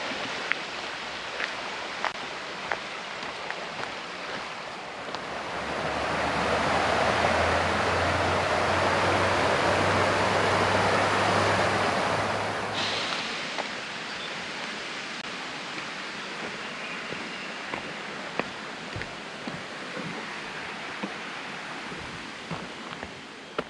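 A creek on the Shoal Creek Trail in David Crockett State Park rushes as a steady broadband wash, swelling louder through the middle as it nears, with footsteps crunching along the woodland path.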